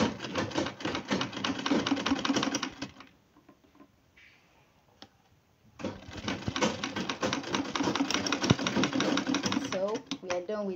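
Sewing machine stitching back over fabric for an A-line top, rapid rhythmic needle chatter in two bursts of about three and five seconds separated by a quiet pause, close and fairly loud.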